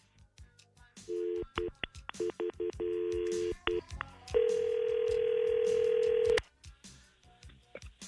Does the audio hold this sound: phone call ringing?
yes